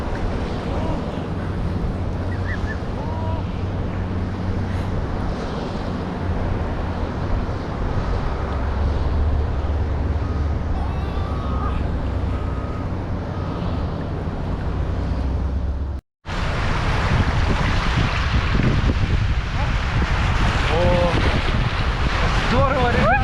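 A boat bounces over ocean waves off a beach in Dubai amid heavy wind buffeting the microphone and sloshing water, loud and constant with a brief dropout near the end.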